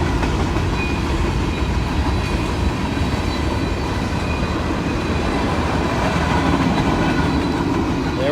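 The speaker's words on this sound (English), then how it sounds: "you'll see the end of our train coming up as it crosses over the last crossing" A long CSX freight train rolls over a road crossing in Hanson, Kentucky with a loud, constant rumble and a faint clickety-clack of wheels, near and steady, and no talking.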